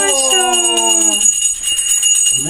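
A small bell rings to announce Santa's arrival on Christmas Eve, sustained bright tones sounding continuously while people talk over it at close range.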